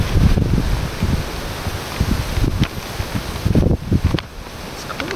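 Wind gusting hard outdoors beside a campfire set up for foil-packet cooking, a loud, steady roar of buffeting and rustle that surges and eases in uneven gusts, with no voices.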